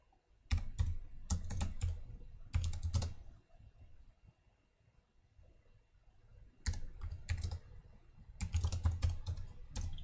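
Fast typing on a computer keyboard, close and crisp, in bursts of rapid key clicks separated by a quieter pause in the middle.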